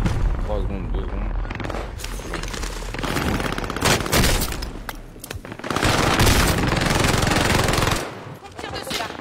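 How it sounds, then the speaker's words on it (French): Rapid automatic gunfire in Call of Duty Warzone crackles in dense bursts with brief pauses, loud and continuous, with players talking over the shooting. "On tire dessus là."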